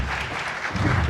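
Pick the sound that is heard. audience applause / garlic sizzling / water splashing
audience applause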